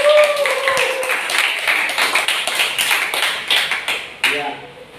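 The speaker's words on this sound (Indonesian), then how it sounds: "Tepuk tangan dulu." A classroom group claps hands together in a brisk, dense burst of many overlapping claps lasting several seconds, with a few voices chiming in over it before it fades and a single voice speaks at the end.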